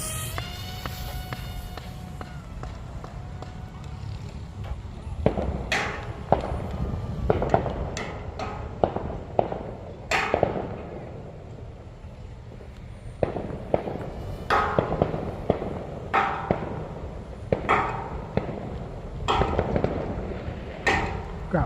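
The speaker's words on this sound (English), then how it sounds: "Got fireworks going around here" Fireworks going off nearby in an open field, a long irregular series of sharp cracks and pops, some close and loud, others fainter and distant, scattered across the whole stretch without speech.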